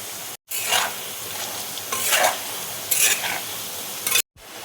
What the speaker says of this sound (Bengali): আলুটা দেখো ভাজা হয়ে গেছে।